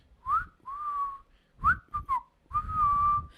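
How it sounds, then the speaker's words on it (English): A person whistles loudly in short, separate phrases: a few rising chirps and sustained notes with gaps between them, close to the microphone. "I think I could whistle"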